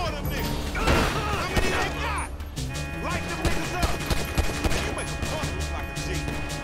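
Rapid gunfire bursts and crashing impacts in the video game GTA 5, loud and dense throughout, mixed with shouting voices and game sounds.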